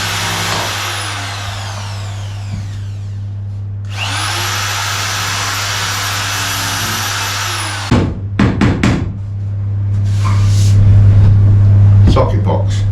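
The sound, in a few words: sanding down a section of a boat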